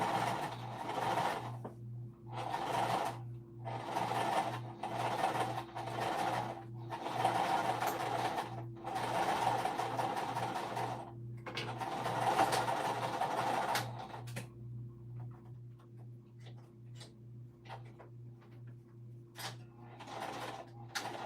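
A sewing machine stitches a crossbody bag of cork and fabric in repeated bursts of rapid needle chatter, starting and stopping many times, with a quiet pause and a few faint taps near the end.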